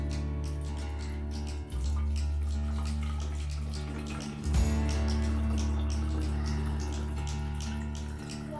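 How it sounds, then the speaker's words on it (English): Tap water pours steadily into a plastic bottle for a Cartesian diver experiment, a continuous loud rushing fill with a low hum beneath and one brief gurgling shift partway through, with no talking. "Fill the bottle with water."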